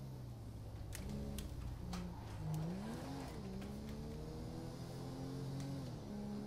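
Engine noise from a speeding truck in the GTA 5 video game. A sustained vehicle engine drones steadily with shifting pitch, and brief sharp transients break through it.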